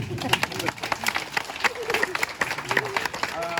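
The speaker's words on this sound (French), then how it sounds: "Vaut mieux l'applaudir avant" An audience in Montreal claps at a live show, uneven scattered clapping with crowd murmur and voices talking over it.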